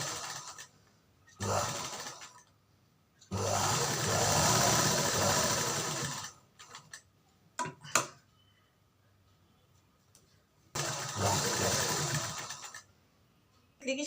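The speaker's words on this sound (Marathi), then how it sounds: "इथून शिलाई मारायला सुरुवात करायची आणि पूर्ण शिलाई मारून घ्यायची" A domestic sewing machine stitches a baby cap in three bursts of steady motor whir, each lasting a second to a few seconds, separated by quiet pauses and a few small clicks.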